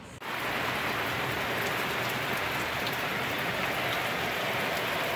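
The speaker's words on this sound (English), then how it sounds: "It's raining pretty hard here." Heavy rain falls steadily outdoors, a dense, loud, continuous hiss of drops on surfaces with no break or voices.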